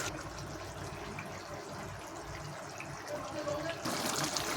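Fish curry gravy simmering in a pot on a gas stove, giving a soft, steady bubbling and liquid burble throughout, fairly quiet and close, with no talk.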